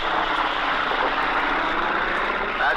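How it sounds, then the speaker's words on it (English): A Marine fighter plane roars overhead above the Iwo Jima battlefield, its loud, steady propeller engine drone filling the air throughout. "That's one of the Marine fighter planes just passed overhead."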